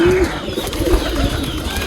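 Pigeons in their loft give low, soft cooing over a steady background of shuffling and faint wing movement, close and continuous, with no one speaking.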